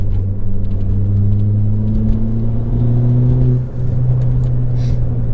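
A 2016 Ford Fiesta ST's turbocharged engine pulls hard from inside the cabin, its droning note climbing steadily, dipping briefly as it shifts, then rising again on wet roads.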